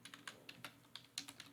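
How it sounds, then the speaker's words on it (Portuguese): Quick, crisp keystrokes on a computer keyboard tap in an irregular run of about a dozen presses, close and fairly quiet, with no voices. "vou abrir parênteses e vou escrever Cabral,"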